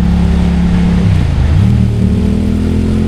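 A motorcycle engine runs at full throttle in second gear while climbing a steep mountain pass, giving a loud, steady drone close up with a slight shift in pitch partway through and no voices.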